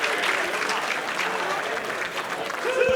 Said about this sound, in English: Anthony Greene getting the crowd fired up here in Yarmouth.